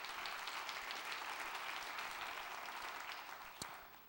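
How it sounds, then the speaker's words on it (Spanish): A dense, steady wash of applause, as if from a church audience, fills the space at low volume and fades slightly toward the end, with one sharp clap standing out near the close. "¿Le das el aplauso al Señor ahí donde estás?"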